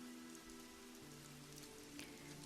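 Soft, steady rain falls on a surface as a continuous, even patter with no voices, quiet and close.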